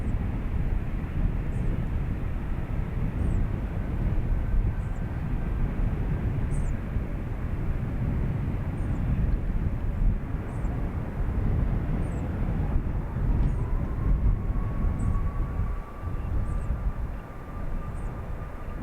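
A Ryanair airliner takes off at Dublin Airport, its engines a steady, loud broadband roar that holds throughout, with a faint rising tone partway through.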